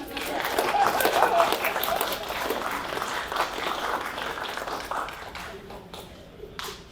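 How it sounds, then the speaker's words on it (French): Audience at a stand-up comedy show breaking into applause, a dense wash of clapping from a nearby crowd that swells early and slowly tapers off, with a voice speaking over it. "Je pense que ça s'applaudit."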